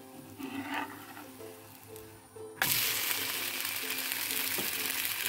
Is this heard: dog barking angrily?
no